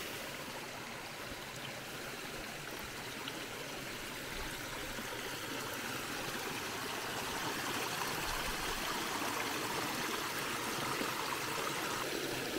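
Water flows steadily through a channel on an agroforestry farm, a continuous broadband rush and trickle like a small stream, close and even throughout with no voices.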